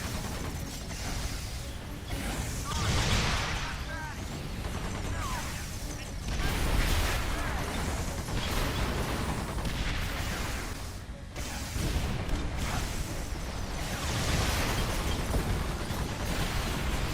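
Missile launcher fire and explosions in EDF: Insect Armageddon, a dense, continuous barrage of whooshing launches and crashing, rumbling blasts that swell and recede over many seconds.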